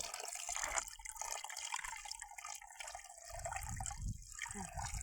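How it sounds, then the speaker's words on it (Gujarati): Water gushes and splashes continuously from a broken tap, fairly faint, with a low rumble of flow underneath. "નળ ભાંગી ગયો હવે બંધ કરી દેતો જો"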